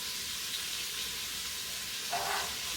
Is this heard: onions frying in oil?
yes